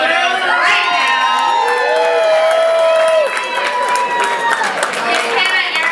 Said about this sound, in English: I'd also like to give a huge round of applause to Stephanie Mathis